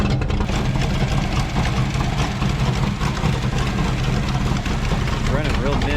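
A 1967 Camaro engine with its mufflers cut off runs loud and rough, holding a deep, constant rumble through the whole clip with no gaps.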